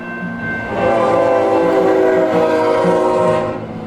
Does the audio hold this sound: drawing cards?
no